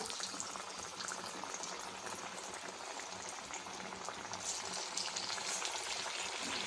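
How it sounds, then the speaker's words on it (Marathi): Bread vadas deep-frying in hot oil on medium flame give off a dense, continuous bubbling hiss, steady and fairly close throughout. "आता आपण आपले वडे जे आहे तळून घेऊया"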